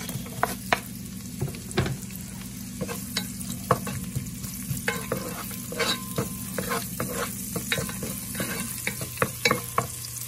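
Garlic and onion sauté in a pan for pinakbet, giving a steady close sizzle broken by frequent clicks and scrapes of a spatula stirring in irregular bursts, with no voices present.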